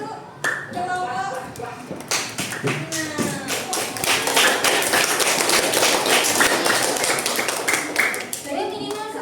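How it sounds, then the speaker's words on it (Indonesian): A class of children claps hands for a group in a classroom, with sharp, rapid clapping building into sustained applause over several seconds amid children's voices. "Tepuk tangan untuk kelompok."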